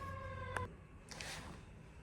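An emergency vehicle siren passes at a distance, heard as a faint, steady wail that fades quickly against low background noise.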